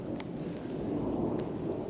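Deep, rolling thunder rumbles steadily during a storm on an Oregon Trail outing, a continuous low roar mixed with rain noise, fairly even in loudness with no voices.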